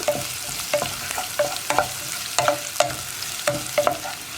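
Oil sizzles steadily as onions and curry leaves fry in a pan for Kerala kadala curry, with a spoon or spatula stirring and scraping against the metal in regular strokes, close up.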